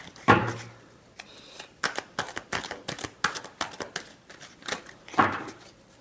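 Cards shuffled by hand for a weekly horoscope reading, with bursts of quick papery riffling and soft slaps between short pauses, close by.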